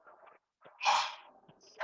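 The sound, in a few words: sneeze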